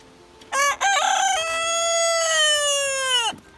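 Silkie rooster crows once nearby, loud and drawn out, with a couple of short clucks leading into it before the call trails off.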